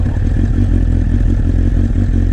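Honda thumper single-cylinder motorcycle engine running on full choke, a loud, steady low-pitched chugging idle heard up close with no talk over it.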